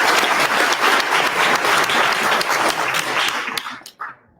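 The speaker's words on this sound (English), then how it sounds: "So let's just give those folks a round of applause if you don't mind" An audience at a home energy storage workshop gives a round of applause, loud dense clapping from a roomful of people that thins out and stops near the end.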